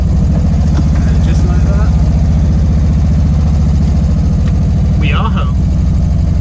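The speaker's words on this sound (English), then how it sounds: "That's a slow idle, but that's an idle." A 1971 Karmann Ghia that sat unused for over 20 years idles slowly with a low, steady, pulsing engine rumble close by, while someone talks briefly over it.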